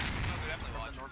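Mortar and grenade blasts in a military video game firefight around a barn complex, a dense rumbling barrage of booming impacts and gunfire, loud and continuous over the short stretch.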